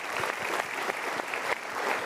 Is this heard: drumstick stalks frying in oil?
no